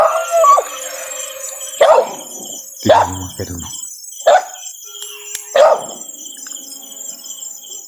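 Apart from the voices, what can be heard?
dog barking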